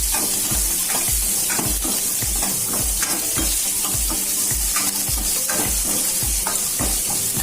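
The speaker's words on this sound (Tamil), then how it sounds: "லைட்டாக வதக்கிக்கலாம்." Sambar ingredients with turkey berries sizzle and fry in a pan, stirred in a steady rhythm of clinks and scrapes that repeat roughly every half second over a constant frying hiss, close and loud with no talking.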